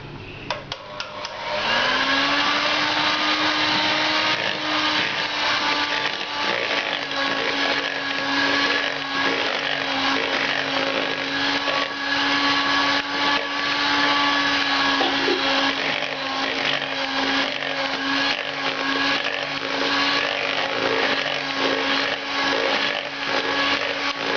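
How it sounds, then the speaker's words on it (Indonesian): An electric mixer beats cake batter at high speed, giving a steady, loud motor whine with a sustained tone. It starts after a short lead-in and runs continuously without pause. "Lalu kita kocok lagi dengan kecepatan tinggi selama lebih kurang 4 menit"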